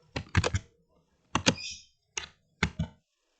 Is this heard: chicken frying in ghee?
no